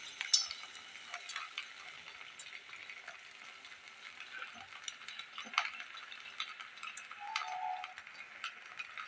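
Rice pitha batter frying in hot refined oil in a kadai, a faint, steady sizzle with scattered small pops and crackles, heard alone at close range.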